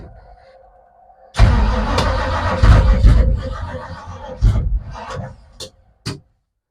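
A footbrake drag car engine with a freshly rebuilt motor cranks and tries to fire, bursting into loud, rough roaring surges that stumble, rev again and cut off abruptly, followed by silence.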